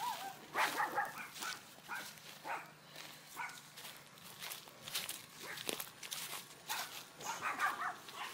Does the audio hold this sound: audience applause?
no